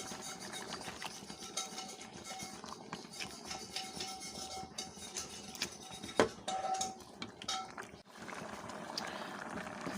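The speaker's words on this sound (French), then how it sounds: "Là, je laisse mijoter en mélangeant de temps en temps." Misilis fern leaves with chili and salt simmer in a pot, a steady low bubbling hiss with occasional soft clinks from stirring, close and fairly quiet throughout.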